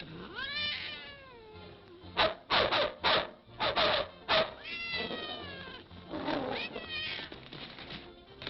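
A cat meows repeatedly in a 1952 film scene, drawn-out rising and falling cries broken by several sharp, loud yowls, close and clear.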